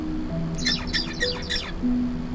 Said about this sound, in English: First, the bird sings.